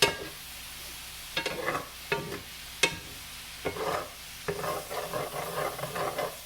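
Southern cabbage fries and sizzles in a pan with a steady close hiss, broken by several scraping, clattering stirs of a utensil against the pan.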